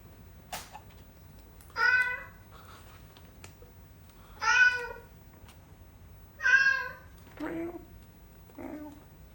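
Five recorded cat meows play from an Alexa Echo smart speaker's Box of Cats feature, spaced a second or two apart. Each is moderately loud and slightly drawn out, and the last two are shorter and lower, in an otherwise quiet room.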